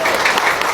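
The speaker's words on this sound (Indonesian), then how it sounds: "Tepuk tangan yang kenceng" Audience clapping loudly at an Islamic motivational gathering in Jambi, a brief, dense burst of many hands at close range.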